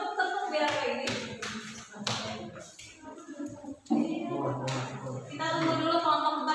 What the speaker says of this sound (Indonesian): Tepuk-tepuk biar kayak gini.